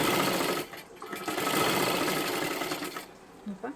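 An electric sewing machine runs steadily while stitching the flared sleeve of a little girl's frock, its close mechanical whir continuous with a short pause near the end.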